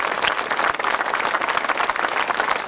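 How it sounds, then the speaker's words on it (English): Steady crowd applause for the winners at a 1994 grasstrack race meeting in Hastings, dense and continuous clapping from many hands throughout, with no voices over it. "once again, a round of applause for our three solo winners, Simon Cross, Paul Fry and Steve Schofield."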